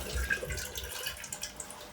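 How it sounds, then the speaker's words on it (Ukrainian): Water running out of a gas pipe in a home kitchen, an uneven splashing trickle with small irregular spatters. "як із газопроводу на його кухні тече вода"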